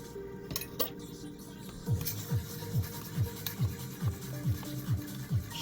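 A utensil stirs Nissin Demae Iccho bar udon noodles in rich tonkotsu broth in a pot, scraping in a steady rhythm of about eight quick strokes, close and moderately loud, with faint clinks at the start.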